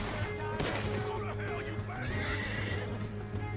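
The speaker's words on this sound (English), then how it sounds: "See the horses?" Horses neigh and whinny in a Western town in Red Dead Redemption 2, with clip-clop hooves and a busy crowded mix of game sounds underneath, fairly loud and near.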